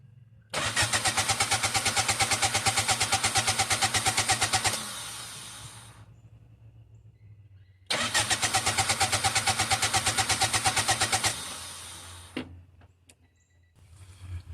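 Starter motor cranking a turbocharged Honda Civic engine on a DIY turbo build, in two long rhythmic bursts of several seconds each, loud and close, with a pause between them. The engine never catches.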